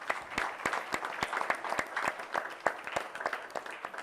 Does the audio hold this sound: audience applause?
yes